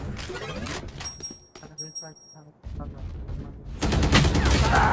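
Valorant gunfire rings out in close, rapid cracks, goes quiet for a moment under softer game sounds and high tones, then returns as a dense, loud burst of shots.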